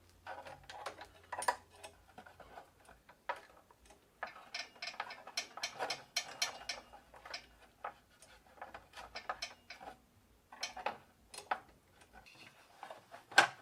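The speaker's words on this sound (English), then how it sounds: "But let's install this thing." Clicking and ratcheting of a chain being fitted on a Gazelle Maxinette bicycle, irregular bursts of small metallic ticks and rattles, close and moderately quiet, with no talk.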